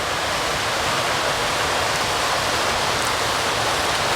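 A creek flows at a bush campground in the Strathbogie Ranges of Victoria, a steady broadband rushing of water that fills the whole stretch evenly, close and fairly loud, with no voices.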